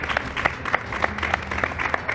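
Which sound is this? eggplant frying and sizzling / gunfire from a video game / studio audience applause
studio audience applause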